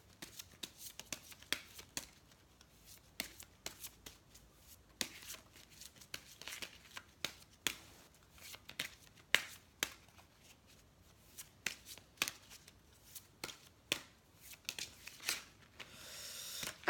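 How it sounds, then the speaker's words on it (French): Oracle cards, an angel love deck, shuffled repeatedly by hand during a romantic reading, giving a steady run of crisp riffling snaps and flutters close up, with no speech over them and a denser flurry at the end. "Je vais vous sortir une carte des anges de l'amour pour voir un peu."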